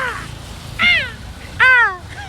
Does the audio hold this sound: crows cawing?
yes